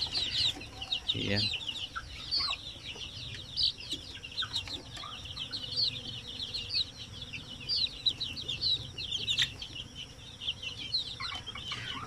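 Native Zampen chickens clucking in cages, a steady chorus of overlapping clucks and calls near and far, with a brief voice and some rustling underneath.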